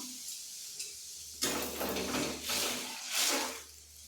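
Spices sizzle sharply as they hit hot oil and lentils in a pot, a loud burst of frying with clinking and stirring that swells and fades in waves over a steady low hum.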